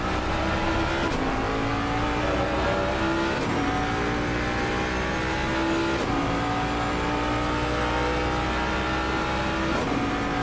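Ferrari and Ford race cars on the Nurburgring straight during an XCL event, with engines screaming loud and close, pitch climbing through repeated gear changes in a steady rhythm of upshifts.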